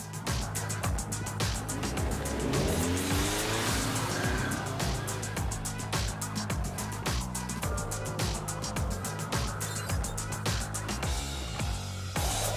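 A 2023 Ford Escape plug-in hybrid accelerates in electric mode, a rising whir and road rush filling the scene steadily and fairly loudly, with no voices over it.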